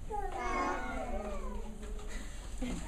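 A voice in a school puppet show imitates a cat, giving one drawn-out, wavering meow that rises and then falls, with other voices faintly behind it.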